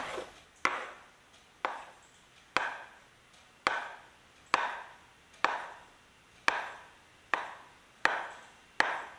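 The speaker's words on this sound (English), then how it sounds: "I roll my dough in a log and I will cut" A knife chops through a log of potato dumpling dough for vareniki in about ten crisp, evenly spaced cuts, each a sharp thud against the board that fades quickly, close and alone.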